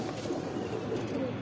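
Indian Kaldom pigeons coo softly in a low, continuous murmur, close by, with no voices.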